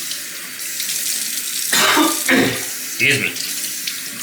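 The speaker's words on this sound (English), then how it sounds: "I'm just gonna wet it under water" A bathroom tap runs steadily to wet a synthetic shaving brush, the water splashing louder in a few bursts as the brush goes under the stream, with a brief spoken word over it.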